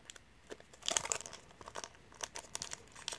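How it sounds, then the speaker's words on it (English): A taped-shut Pokemon booster pack wrapper being pried open with a screwdriver, close crisp foil crinkles and small tearing rips in irregular bursts, with no talking. "I'm probably the only guy that's ever used the screwdriver on a Pokemon booster pack"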